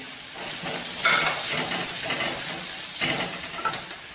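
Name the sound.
spicy masala egg fry sizzling and being stirred in a pan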